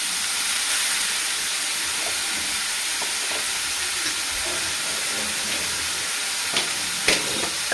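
Tomato hitting a hot pan of palak chinri sizzles in a steady, bright frying hiss, close and continuous, with faint stirring clicks and no talk.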